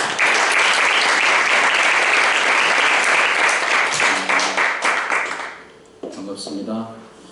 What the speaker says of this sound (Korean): 큰 박수로 우리 목사님을 잘 모시겠습니다.